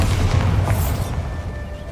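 A Bombarda blasting spell from Hogwarts Legacy goes off as a deep, booming explosion up close, with a heavy low rumble for about a second before it decays into a quieter fading tail.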